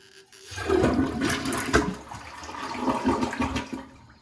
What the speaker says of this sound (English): So once you flush the toilet,